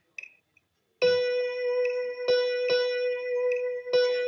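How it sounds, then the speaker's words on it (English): Clear, sustained tones on a single pitch sound in a repeating dotted quarter note rhythm, each note struck with a sharp attack and held, played alone as a short rhythm demonstration. "A dotted quarter note sounds like this"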